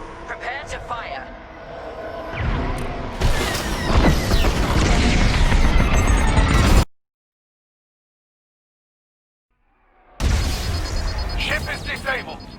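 Missiles explode against a ship in the Star Wars Squadrons space-combat game: several seconds of loud, dense booming crashes that stop abruptly into silence, then heavy rumbling resumes, with voices speaking over the action.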